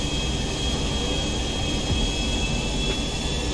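Jet engine of an airplane landing at an airport in GTA 5 roars steadily throughout, a loud continuous drone with a high whine on top and no talking.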